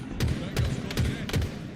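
Four evenly spaced bursts of gunfire ring out in the Halo Infinite multiplayer match, each a sharp crack with a low thump, over a murky backdrop of game sound.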